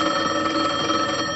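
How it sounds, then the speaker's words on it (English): An old-fashioned telephone bell rings steadily and close in a vintage sitcom scene, a continuous buzzing ring with no talk over it. "Phone. Huh? I better answer that."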